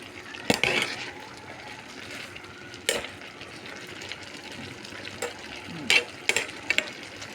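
Sautéed bottle gourd and zucchini with tuna flakes cook in a pan, a soft steady sizzle broken by sharp spoon-on-pan clanks and stirring scrapes at irregular intervals.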